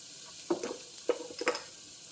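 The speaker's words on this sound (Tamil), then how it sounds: "நல்லா மசாலா பொரியட்டும் தக்காளி வெங்காயம் வெங்காயம் இந்த மிளகாத்தூள் எல்லாம் அப்படி மசாலாவும்" Tomato, onion and chili powder masala fries in a pan on a low simmer, giving faint, brief sizzles and stirring scrapes in a few short bursts.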